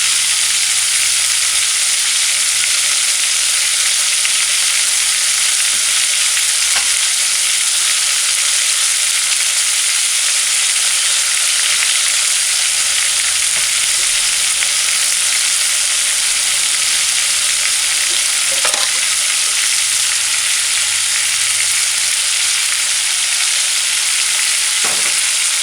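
Ackee and bacon fry in a pan on a stove at medium heat, a steady loud sizzle and crackle with no pause and a few faint clicks.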